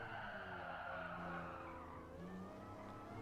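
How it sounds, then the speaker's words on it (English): Tires skidding and squealing as the brakes lock up on a race car in Gran Turismo Sport, a steady, loud tonal screech held throughout over a droning engine. "I think they're even locking up on me."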